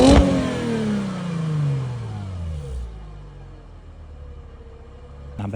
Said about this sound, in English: it has a beautiful V6 engine, natural aspirated,